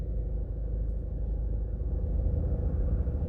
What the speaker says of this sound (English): Today we're going to take a drive through downtown Kingston and take a look at all the buildings